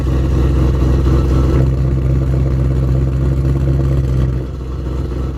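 A car engine with an XFORCE aftermarket smart exhaust idles with a deep, steady exhaust rumble, rising slightly mid-clip before settling back to a lower hum near the end.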